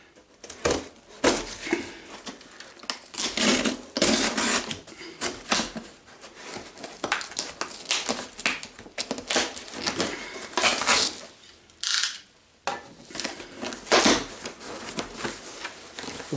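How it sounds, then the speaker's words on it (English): Packing peanuts rustle and crunch in irregular bursts as hands dig through them in a freshly opened gun box, steady close rummaging with brief pauses and no talk. "Packing peanuts"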